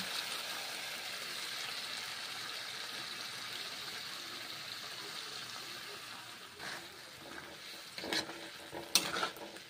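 Raw green banana pieces fry in a thick spice paste in a pan, a steady close hiss and sizzle with stirring scrapes that grow louder toward the end.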